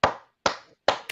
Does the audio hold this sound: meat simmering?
no